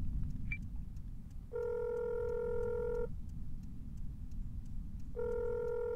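A telephone rings in a car accident first aid video game, two long buzzy tones separated by a pause over a low rumbling background, with no talk.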